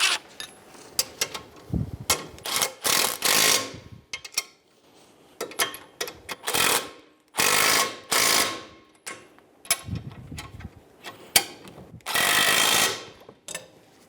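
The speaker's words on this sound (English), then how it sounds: "Using an 18mm wrench, we're going to hold the head of the bolt while using an 18mm socket to snug down the nut." An 18mm socket on a ratchet snugs down a front ball joint nut on a 2008-2017 Buick Enclave. Quick, close clicking runs come in repeated bursts with brief pauses between strokes.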